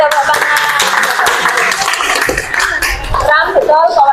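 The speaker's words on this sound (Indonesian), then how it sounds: "Beri tepuk tangan." Children and an audience clap in a classroom, a brief patter of applause mixed with lively chatter and voices, close and fairly loud, fading as talk continues.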